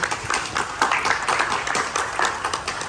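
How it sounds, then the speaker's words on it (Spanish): Applause from an audience at a panel discussion on urban mobility, many hands clapping in a steady dense patter for a few seconds, moderately loud and without a clear break. "primero un aplauso."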